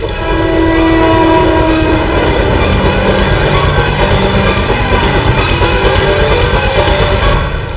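A passenger train running past Mandideep station makes a loud, close, continuous rumble and rattle, with sustained horn-like tones layered over it throughout.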